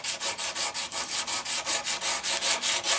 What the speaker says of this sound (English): you can go with your file and just use it to back some of your sandpaper too